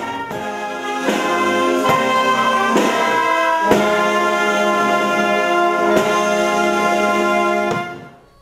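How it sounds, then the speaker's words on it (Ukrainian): A brass band plays the Ukrainian national anthem at a garrison military hospital, slow and stately with sustained chords and steady rhythmic accents, ending abruptly. "Завершували виступ у гарнізонному госпіталі колективи Палацу культури нашого міста гімном України"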